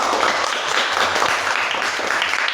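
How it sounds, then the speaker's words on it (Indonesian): Applause for a student group after a classroom presentation, a steady dense wash of clapping from a room of people, moderately loud and sustained throughout. "Tepuk tangan untuk kelompok 2."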